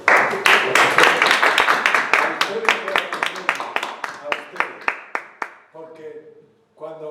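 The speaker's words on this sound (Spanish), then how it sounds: "Sí, un aplauso." Lecture audience applauding after a talk on memory, attention and learning, sharp distinct claps that start loud and thin out over several seconds, ending with a short burst of talk.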